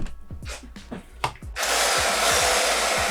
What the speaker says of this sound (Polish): E, jest na młot przełączone. Musisz wiertło wsadzić i przytrzymać na dół wiertło